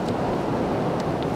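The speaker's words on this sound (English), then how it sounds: "it's quite windy." Steady blustery wind roars across Crosby Beach, a continuous broadband rush with no voices, like gusts blowing over open beach near surf.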